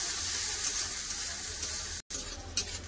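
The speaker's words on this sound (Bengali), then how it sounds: "দিয়ে দেবো কেটে রাখা পেঁয়াজ, পেঁয়াজটাকে একটু লাল করে ভেজে নেবো।" Chopped onions frying in a pan until reddish, a steady close sizzle running throughout with a brief gap near the end, no talking.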